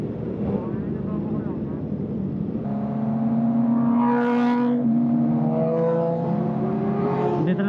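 A ZX4RR motorcycle with a straight-pipe exhaust revs on the road, a steady drone rising into a loud, rasping surge midway while a rider talks over it.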